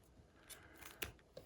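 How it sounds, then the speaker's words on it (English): Sharp scissors snip through wrapped yarn on a pom pom maker, a few faint, quiet crisp cuts spaced out over a second and a half, with no talk. "Let me snip through there."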